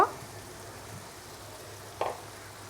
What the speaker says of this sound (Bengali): ভুড়িটা আমি মশলার সাথে একটু কষিয়ে নেব